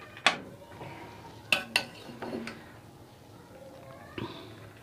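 Sweet gur rice with green cardamom and fennel being spooned into a serving dish, several sharp metallic clinks and scrapes of a spoon against the vessel, then a softer knock, with quiet gaps between.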